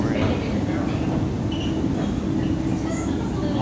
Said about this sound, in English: So this is a huge train that we're in.